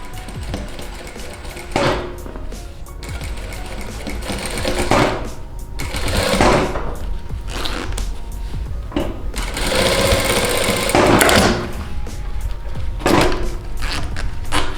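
A sewing machine stitches a zipper into a pair of trousers, running steadily and loudly in several bursts with short pauses between them as the fabric is folded and guided around the curve.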